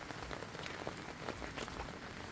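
Steady rain falls across the whole stretch over a waterlogged crop field, a dense even hiss with scattered brighter drop impacts and no voices.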